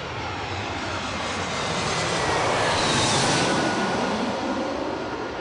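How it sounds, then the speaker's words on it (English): Airplanes passing overhead near Heathrow Airport, a broad continuous engine roar that swells toward the middle and stays loud throughout, with no voices. "you do have to put up with the planes going over"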